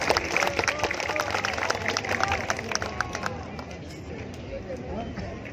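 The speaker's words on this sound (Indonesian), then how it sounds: "perlu kasih tepuk tangan dulu" An audience claps at the F8 Makassar opening ceremony, a burst of dense applause that starts loud and fades out over several seconds, with a voice talking over it.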